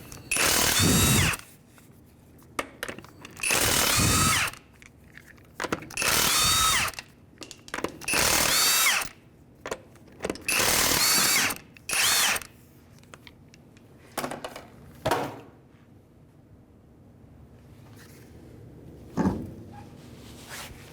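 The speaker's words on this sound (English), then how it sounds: "To remove our wheel, it's going to be a 19mm socket. I'll take our wheel off now." Power tool bursts removing a wheel with a 19mm socket on a 2005 Honda Element: a series of loud, whirring impact-wrench runs of one to two seconds each, separated by short pauses, close by with no talk.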